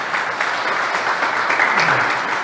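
A church congregation claps in a steady, full round of applause that continues throughout without a break.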